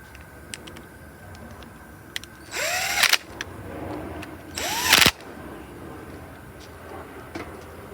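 DeWalt power drill fitted with a 7mm socket, working on a 2020 Bolens walk-behind lawn mower, gives two short whirring bursts of about half a second each with rising pitch, close up against a quiet background with faint ticks.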